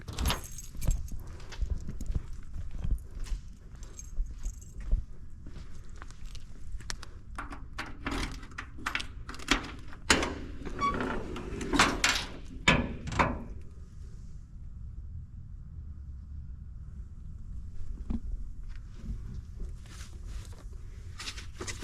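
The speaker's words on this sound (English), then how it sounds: "Grab these keys and open up the trunk." Keys jingle and clatter on a restored 1965 Chevelle SS, followed by the clunk and creak of the trunk being opened, close and mid-level, with a quieter stretch of low ambience afterward.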